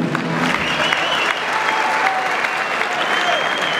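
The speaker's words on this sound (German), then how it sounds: "Applaus." Loud, sustained crowd applause at a kickboxing fight night between rounds, a dense continuous wash of clapping and cheering from a large indoor audience.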